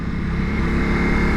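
A 2021 Ducati Multistrada V4S's V4 motorcycle engine drones steadily up close, a loud, even, rumbling tone with no break and no talking over it.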